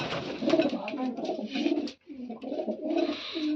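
Pigeons coo continuously in soft, throaty warbles, with a short pause near the middle before the cooing resumes, close by.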